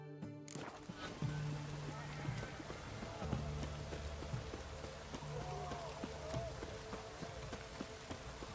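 Heavy downpour in The Witcher 3, a steady wash of rain spattering on surfaces, moderately loud and continuous, with faint game sounds and a low tonal hum underneath.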